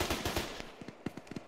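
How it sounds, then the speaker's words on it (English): Bursts of G3 rifle fire from the game Arma 3, a quick string of roughly a dozen rapid shots, fairly faint and distant. "That's the sound of a G3."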